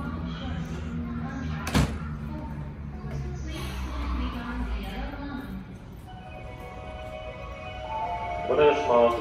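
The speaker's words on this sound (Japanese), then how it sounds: "ドアが閉まります。" Tokyo Metro Tozai Line train at Nishi-Funabashi station, doors closing with a sharp thud early on, then low rumble and clatter of the train under station noise, with a short burst of speech near the end.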